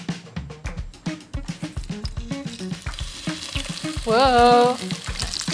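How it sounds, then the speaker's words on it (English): Salted fish pan frying, a loud, close sizzle with crackling pops and clatter running throughout, and a brief exclaimed voice near the end. "All salted up, and now we pan fry."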